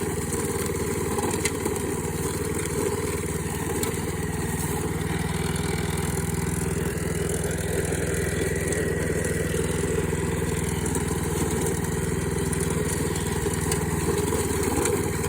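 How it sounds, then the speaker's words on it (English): A lawnmower fitted with a cable in place of its blade runs steadily over debris such as sheet metal, its engine droning at a constant pitch throughout with no voices heard. "it's just great to be running over stuff like this with a lawnmower"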